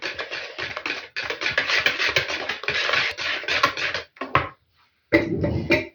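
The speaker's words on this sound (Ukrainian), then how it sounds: "Це теж трошки, трошки отак розмішаю." Rhythmic scraping and tapping of a utensil stirring mayonnaise pie batter in a bowl, steady close strokes with a couple of brief pauses near the end.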